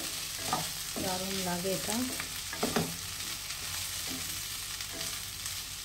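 New potatoes, beans and onion frying in a pan, a steady sizzle with stirring scrapes while a person briefly talks over it.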